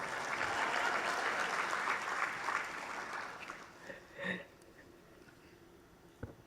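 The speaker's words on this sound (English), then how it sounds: "I just want to give the young lady another round of applause, please." An audience at the DSFN Conference 2025 gives a strong round of applause that thins out after about four seconds, leaving scattered claps and faint room noise.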